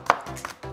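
A knife slices carrot for Korean jeon pancake: a few quick, crisp chops on a board in close succession, nearby and moderately loud.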